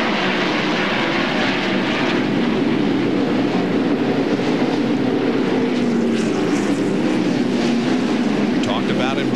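NASCAR Winston Cup race cars at the 1999 Goody's Body Pain 500 roar past continuously, a loud engine drone with broadcast commentary talking over it.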